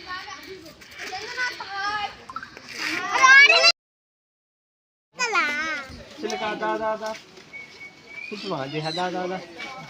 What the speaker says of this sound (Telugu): చిలుకలు